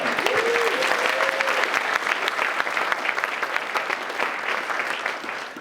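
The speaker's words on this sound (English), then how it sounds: "Big round of applause, folks, for Romey Chopra" Audience applause at a property investors' networking event in London, a dense, steady round of clapping from a room of people, sustained throughout at a fairly strong level with a brief voice tone near the start.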